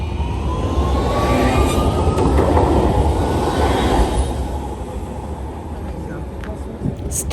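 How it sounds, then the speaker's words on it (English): A tram rolls past on its rails in Rotterdam with a loud, continuous rumble and wheel noise close by that slowly fades as it moves away. "Whee! Tram number 2."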